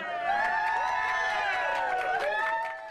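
A dense crowd at a Donald Trump campaign event, with many overlapping voices shouting and cheering at a steady, loud level for the full stretch, tapering slightly at the end.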